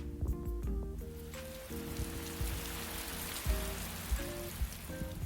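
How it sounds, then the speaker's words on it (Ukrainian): Steady rain patters down continuously, a dense hiss of drops with occasional louder splashes, while soft musical tones play faintly underneath. "Це звук дощика."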